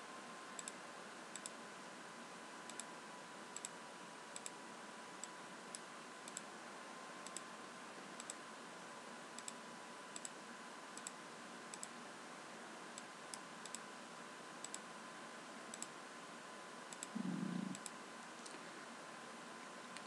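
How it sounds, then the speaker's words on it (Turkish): Computer mouse left-button clicks used while building a PowerPoint photo album, faint single ticks spaced irregularly over a steady background hum. "tıklıyoruz da sol tuş olarak"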